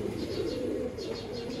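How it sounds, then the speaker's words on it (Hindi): A kamagar pigeon cooing softly, a few low murmuring coos over a quiet background. "ये वाला कबूतर और हरी कमगर मादा है"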